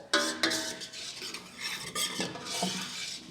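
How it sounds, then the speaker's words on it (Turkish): Flour roasting in butter is stirred in a pan with quick scraping strokes and a few utensil clinks over a faint sizzle, up close and fairly quiet, with no talking. "Bu şekilde kavurmaya devam ediyorum."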